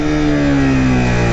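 A Suzuki GSXR 150 motorcycle engine, ridden in first gear, revs down steadily under engine braking, loud, close and continuous with a slowly falling pitch.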